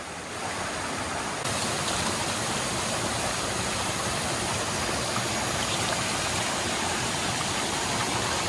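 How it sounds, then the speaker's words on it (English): A waterfall and stream flow near Chehalis Lake, a steady, loud, dense rush of water filling the whole clip, close by, with no voices. "You can see the waterfall in the middle of the screen under that log."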